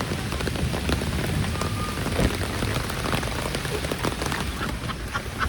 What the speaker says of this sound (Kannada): ಪೂರ್ತಿ ಕಾಡು ಮಳೆ ಹೆಂಗಾಯ್ತು ನೋಡ್ರಿ